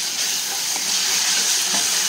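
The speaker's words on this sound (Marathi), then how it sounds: "त्याच्यामध्ये घालते आलं लसूणची पेस्ट." Ginger garlic paste dropped into fried onions in a pan for keema gives a loud, even hiss and sizzle that holds steady throughout at close range.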